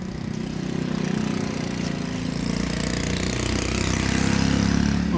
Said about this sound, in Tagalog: Nara po yung mga motor.